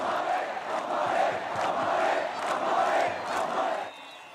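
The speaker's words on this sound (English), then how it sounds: "mass rallies are underway celebrating the collapse of the Assad regime" Large crowd at a mass rally in Syria celebrating the collapse of the Assad regime, a dense roar of many voices chanting and cheering in rolling waves, loud and sustained before dropping off at the end.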